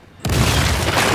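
A sudden loud boom in the video game Uncharted 4: A Thief's End erupts after a brief quiet moment and rolls on as a sustained roar.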